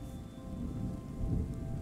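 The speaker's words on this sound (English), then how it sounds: "Is it gonna rain like all the time now?" Steady rain hisses over a low thunder rumble in the video game Terra Nil, an unbroken wash of storm noise with no voices.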